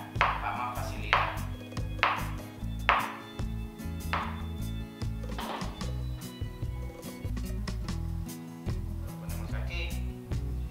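A knife chops food into small pieces on a board, about a dozen sharp, evenly spaced chops under a person talking steadily nearby.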